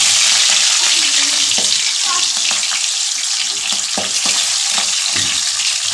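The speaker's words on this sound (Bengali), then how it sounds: "তেল গরম হয়ে গিয়েছে, মাছগুলো একটা একটা করে ছেড়ে দিলাম। বাবা, এই যে ফুটতে শুরু হয়ে গেছে।" Boal fish pieces frying in hot mustard oil in a pan, a loud steady sizzle and crackle with sharp pops and spatters throughout, close by and without talk.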